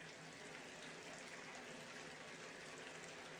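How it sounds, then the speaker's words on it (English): Running water fills a bath in an animated cartoon, a steady, even hiss of gushing water with no break, fairly faint in level and alone. "I like how this running water sounds like it's a shower, but she's clearly in a bath."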